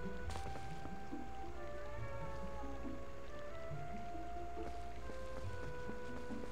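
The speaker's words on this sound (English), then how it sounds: "The cat was being annoying." Hungry cat meowing faintly indoors, a few drawn-out, wavering meows rising and falling in pitch, low in level beneath steady background noise from game audio.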